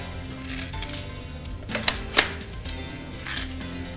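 Airsoft pellets fired from an M690 spring shotgun slap against a paper target, a pair of crisp, close paper cracks in quick succession amid softer scattered ticks and a faint room hum.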